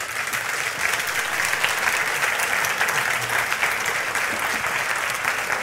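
Sustained applause from a church congregation honoring the King during a Christian sermon, a dense steady wash of many hands clapping at even loudness throughout.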